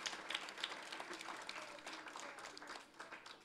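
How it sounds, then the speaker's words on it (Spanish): A church congregation applauds in a steady, dense patter of many hands, fairly faint and distant, filling the space without talk on top. "Dale un fuerte aplauso al Señor por su amor y su misericordia."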